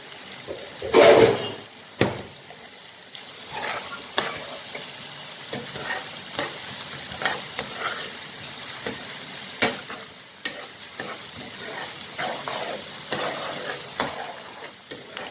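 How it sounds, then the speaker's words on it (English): Food sizzles steadily in hot ghee in a pan while a utensil scrapes and stirs repeatedly, with a sharp clatter near the start and no voices. "we will remain frying, I think 1 to 2 minutes"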